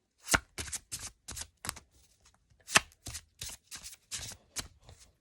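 A deck of cards is riffle-shuffled repeatedly, a quick series of crisp flutters with short pauses between them, close up and without talk.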